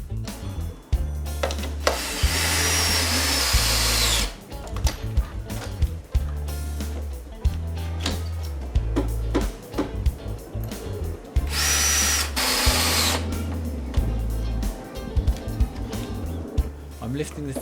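A power drill drives hex screws into wooden decking bearers in loud, repeated bursts, whirring then stopping, with short gaps between the runs.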